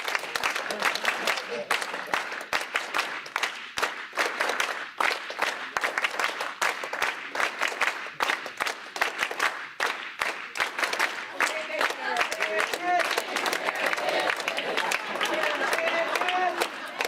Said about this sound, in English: you're going to clap and sing at the same time